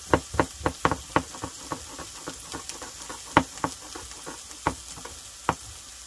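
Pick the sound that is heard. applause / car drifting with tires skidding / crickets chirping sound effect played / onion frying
onion frying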